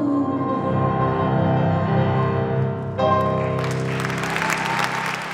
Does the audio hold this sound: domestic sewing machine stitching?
no